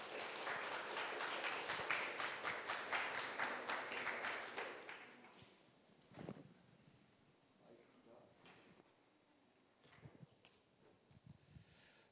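An audience at a seminar of the World Korean Business Convention applauds to welcome a speaker, with dense clapping for about five seconds before it fades into quiet room noise and scattered small knocks.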